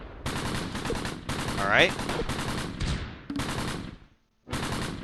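Tank and small-arms gunfire in a Close Combat World War II battle at Gavrus, 1944, sounding as dense, continuous shooting with loud bursts and a brief lull near the end, mixed with a man's speech.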